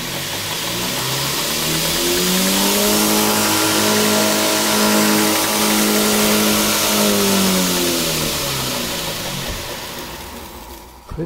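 A DIY 2x72 inch belt grinder with a 2 HP motor on a VFD, built from aluminum profile, runs indoors: a whining motor tone climbs in pitch, holds steady and loud, then winds back down before a brief click at the end.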